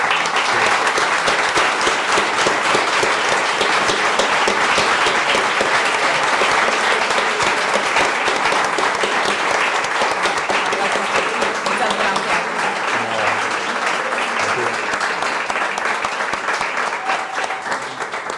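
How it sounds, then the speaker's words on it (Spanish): Audience at a literature festival in Lanzarote applauding loudly and steadily, a dense sustained wash of clapping that continues throughout, with faint voices mixed in. "le vamos a dedicar un gran aplauso"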